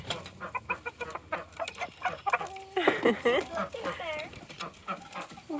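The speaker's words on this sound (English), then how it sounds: "Good afternoon, chickens." Farm chickens cluck and squawk close by in an irregular chorus, with a louder, rising burst of calls midway, while people talk among them.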